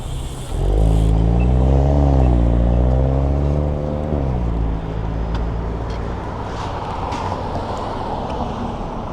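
Vancouver street traffic during an evening bike ride: a nearby engine revs loudly, swelling and dipping for a few seconds, then fades into a steady wash of passing vehicles.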